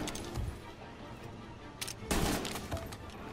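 A few bursts of gunfire in the video game Mafia Remake, one brief shot early and a louder crack later, over a low background hum.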